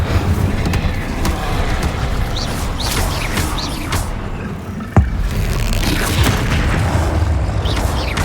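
An Incendio fire spell from Hogwarts Legacy bursts with a loud whooshing, rumbling blast over continuous busy game noise, with one sharp crack near the middle.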